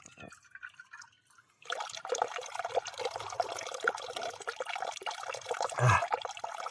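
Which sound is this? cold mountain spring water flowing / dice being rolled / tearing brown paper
cold mountain spring water flowing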